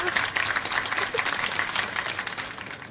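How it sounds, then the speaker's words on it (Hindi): Classroom children applauding together, a dense, continuous patter of clapping that fades slightly toward the end. "चलो बच्चों, सब लोग इसके लिए तालियां बजाओ।"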